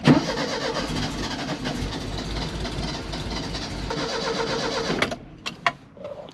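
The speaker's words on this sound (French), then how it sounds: "le camping-car redémarrait pas" A camper van engine cranks repeatedly without catching, a steady mechanical churning for about five seconds that cuts off, followed by a few sharp knocks in near silence; close and loud.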